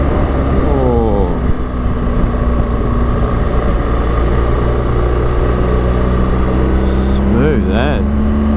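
A motorbike riding along Woods Point Road, a winding road near Warburton, Victoria, Australia, a loud steady engine drone mixed with heavy wind buffeting, with brief tonal sweeps as the revs shift.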